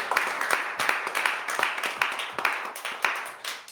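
A church congregation claps together at a Sunday service, a dense run of sharp hand claps in an uneven, lively rhythm at moderate level, with no speech over it.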